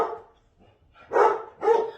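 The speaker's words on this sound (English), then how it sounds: "my dogs are going to act like idiots" Dogs barking indoors at home, a couple of near, loud barks separated by a short pause, with faint quieter sounds before them and no talking.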